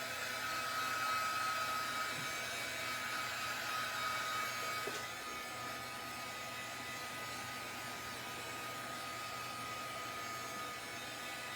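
A heat tool blows steadily to dry a glitter craft project, a continuous airy whoosh that is louder at first and then runs slightly softer and even for the rest of the span, with no talking.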